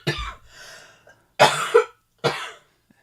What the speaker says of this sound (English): I've got this cough and it won't stop